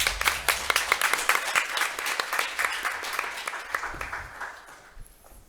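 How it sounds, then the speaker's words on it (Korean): Audience at a Korean finance forum applauds to welcome the panel discussion moderator, a former Financial Services Commission chairman; crisp individual claps in a fairly close, moderate burst that gradually thins and fades out near the end. "큰 박수로 맞이해 주시기 바랍니다."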